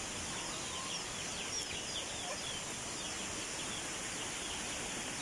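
Faint clucking of chickens on a rural provincial farm near a creek, soft distant calls over a steady hiss of outdoor background noise.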